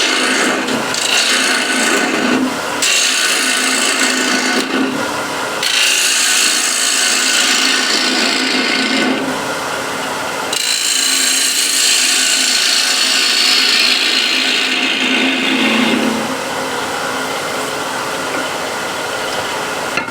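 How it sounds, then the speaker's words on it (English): A ball gouge scraping waste wood from inside a piece, giving a loud, continuous rasping and rubbing sound in long strokes with brief breaks, close up and with no talk. "I'll use ball gouge just to remove some of the waste on the inside."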